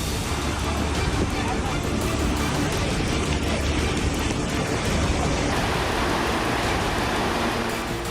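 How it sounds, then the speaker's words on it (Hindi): Swollen waterfall in the Sahyadri mountain range after heavy rain, a dense, steady roar of rushing water filling the whole clip at constant loudness, with a slight shift in texture partway through. "सह्याद्री पर्वत रेंज में वाटरफॉल उफान पर है।"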